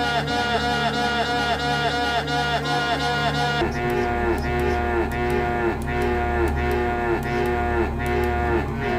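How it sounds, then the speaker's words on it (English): Cows in the Return to Krondor video game moo repeatedly when clicked, a rapid string of synthetic lowing calls in a steady rhythm, loud and close, with a background game tone. "If I click the cows too quickly, it does not work."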